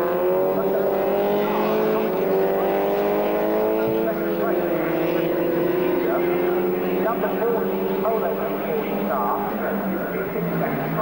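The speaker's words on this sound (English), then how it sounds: "Two more drivers having a spin there, 15 Bernie Cox and 30 Mark Bailey." Super Coupe Cup race cars lap the Silverstone circuit, engines droning and shifting pitch continuously in the distance beneath steady commentator talk.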